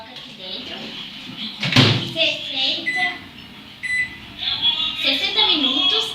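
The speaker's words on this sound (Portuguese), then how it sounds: "Agora a gente vai levar pro micro-ondas, que é aqui." A microwave oven door is opened with a clunk and frozen fries are placed inside, with rattling, handling noises and the door being shut, while a person talks throughout.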